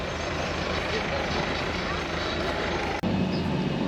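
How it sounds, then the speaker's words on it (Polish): A baggage tractor rumbles along at an airport in Namibia, a loud, steady engine drone that fills the whole stretch, with a brief dip near the end. "Ludzie czekają aż traktor pojedzie."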